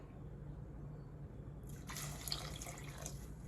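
Water pours into a pot over beans, a soft trickle that switches to a brighter splashing stream partway through, faint and close, over a low steady background hum.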